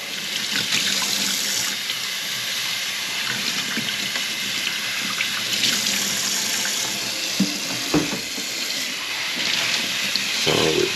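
Tap water runs steadily from a faucet into a sink, rinsing aquarium canister filter media without detergent. It is a continuous close splashing rush with a few louder gurgles and knocks near the end.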